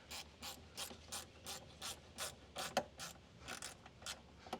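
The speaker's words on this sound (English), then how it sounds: "we're going to go ahead and tighten down our clamps." A ratchet tightening hose clamps on a K&N NextGen cold air intake gives a steady series of about fifteen quick, close clicks at an even rhythm, with no talking.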